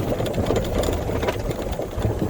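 A golf cart rolls over a bumpy road, its motor humming with irregular knocks and rattles from the rough surface, close and continuous.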